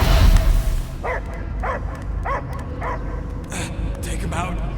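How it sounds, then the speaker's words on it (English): Dog barking in the Marvel's Guardians of the Galaxy video game: four short, evenly spaced barks in the middle of the clip, heard over a steady game background, with a louder burst at the start. "I hear only barking."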